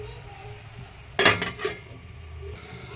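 A lid set onto a pan of brinjal and egg curry lands with a sharp metallic clank and a second lighter clink, over a faint background sizzle, no voices.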